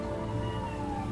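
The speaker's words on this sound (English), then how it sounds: "Not sure if you can hear her, but she's meowing." A domestic cat gives one short, fairly quiet meow over steady background hum, with no talking.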